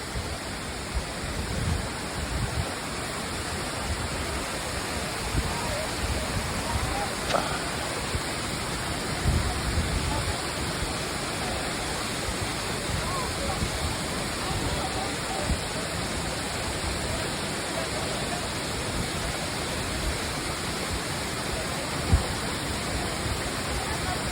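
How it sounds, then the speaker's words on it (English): The big waterfall at Plitvice Lakes National Park in Croatia roars as a steady, dense rush of falling water, loud and continuous throughout, with no change in intensity. "Now this is the big waterfall."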